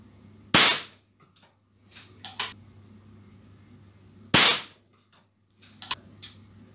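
Air pistol shots from a Weihrauch HW40 and a Beeman P17 fired at a paper target during precision shooting: two sharp, loud cracks several seconds apart, each followed by quieter clicks and handling noises of reloading.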